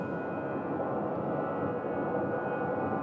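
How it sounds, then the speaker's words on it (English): An Airbus A321neo jet at Phoenix Sky Harbor Terminal 4, a steady broadband engine roar with a thin high whine, continuous and moderately near, no voices. "And this one here A321neo is headed out to the islands."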